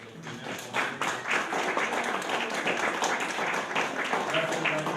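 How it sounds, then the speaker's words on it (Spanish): An audience gives a lively round of clapping for the first speaker at a talk, with dense, fairly close hand claps sustained throughout and voices mixed in beneath. "Un fuerte aplauso, por favor, para nuestro primer ponente."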